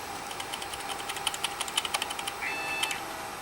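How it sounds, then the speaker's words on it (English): An HP Vectra VL Series 5/166 desktop with a Pentium 166 gives a short, thin electronic startup beep near the end, after a run of soft mechanical clicks over a steady fan hum. "Beep beep."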